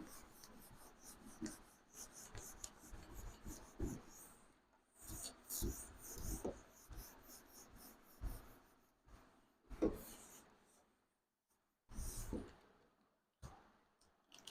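Writing is wiped off a teaching board in a chemistry class. Faint, close rubbing strokes come in short bursts separated by brief silences across about fourteen seconds.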